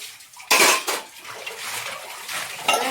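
Household pots and dishes clatter and knock together in a home, with a loud metallic crash near the start, a second bang shortly after, scattered rattling, and another clatter at the end.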